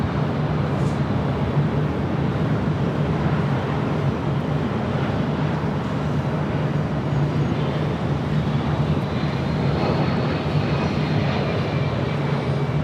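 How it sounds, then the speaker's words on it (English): A Delta Boeing 767-300ER airliner arriving at Los Angeles LAX gives a steady, loud jet roar with a low rumble that holds throughout, plus a faint rising whine near the end. "We do have a Delta 767 at 300ER now arriving."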